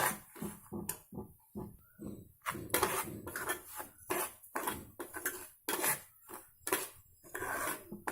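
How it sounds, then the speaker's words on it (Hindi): Semolina is stirred and roasted in a pan until browned, giving a close, continuous run of scraping and scratching of a spoon against the pan, with soft clinks and rustles in an irregular rhythm. "इसे भी अच्छे से ब्राउन कलर आने तक थोड़ा भून लीजिए।"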